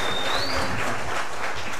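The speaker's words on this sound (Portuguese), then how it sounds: "Uma salva de palmas para ele, senhoras e senhores. Pode bater palma para esse maloqueiro de carteirinha." A stand-up comedy audience bursts into close, loud, continuous applause for MC Maloca, a dense crackle of many hands clapping.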